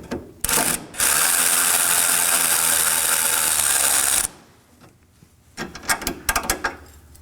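Ratchet with a 10mm socket backing out an impact sensor bracket bolt on a 2013-2019 Nissan Sentra, a loud continuous ratcheting whir for about three seconds, then scattered clicks and handling clatter.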